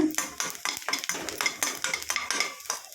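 Semolina fried in ghee in a pan for rava laddu is stirred with a spoon, giving a close, rhythmic scraping and clinking at a steady pace over a faint sizzle.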